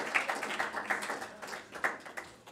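Applause from an audience welcoming a speaker to the stage, a dense scatter of hand claps at moderate level, somewhat distant in a hall, holding steady for a couple of seconds and tapering off.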